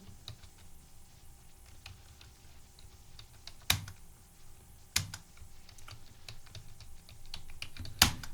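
Computer keyboard typing while entering ledger details in TallyPrime accounting software: a steady run of soft, quick key taps with a few louder, sharper keystrokes standing out, close and clear with no talking.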